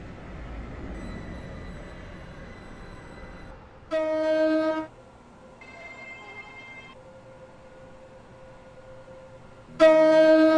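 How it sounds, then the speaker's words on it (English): A train in the video game Stepford County Railway hums steadily as it arrives at a platform, then two loud, bright horn-like tones sound, one partway through and one at the end, with a softer tone between. "The train now approaching Platform 1 terminates here."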